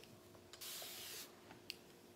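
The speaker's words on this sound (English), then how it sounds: "Just spray the water on." A short, quiet burst of water misted from a spray bottle onto natural hair mini twists, a single soft hiss lasting under a second amid faint handling rustles.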